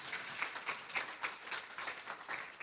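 A conference audience at Oradea Business Days 2013 applauds the previous speakers with soft, fairly rhythmic claps that pulse evenly and faintly.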